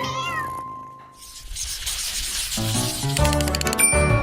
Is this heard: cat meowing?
yes